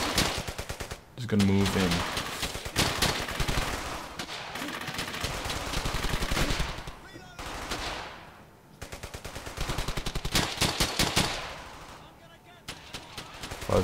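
Suppressing machine gun fire from Brothers in Arms: Hell's Highway rattles in long, loud, dense bursts separated by brief pauses, with a voice speaking briefly over the shooting.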